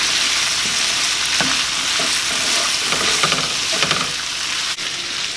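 Shrimp fry in a pan for a shrimp and vegetable stir fry, a loud steady close sizzle with occasional stirring scrapes and pops throughout, no talk.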